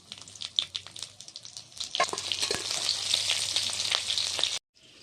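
Bay leaves, green chilies and radhuni hit hot oil, starting with sputtering pops and swelling into a loud bright sizzle that cuts off abruptly near the end.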